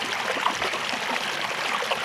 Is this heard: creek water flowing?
yes